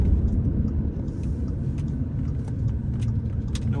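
Audi A3 S-line Sportback driving at around 45, a steady low road and engine rumble from inside the cabin, continuous and moderately loud with faint small rattles and no talk.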